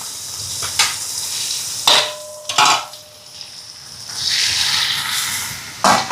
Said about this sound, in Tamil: இந்த உள்ளி வந்து இந்த பட்டரில் அப்படியே வதங்கட்டுக்கும்